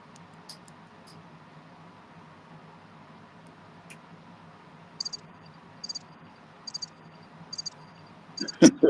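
A cricket chirps in short, evenly spaced pulses against a faint, steady background hum, clearly audible and fairly close; a couple of soft knocks and a louder rustle come at the end.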